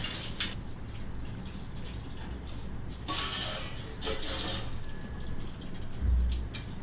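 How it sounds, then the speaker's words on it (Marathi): Dishes are washed under a running kitchen tap, with a steady splashing water hiss and soft clinks and surges at moderate volume. "आधी भांडे घासून घेतले भांडे धुवून घेतले"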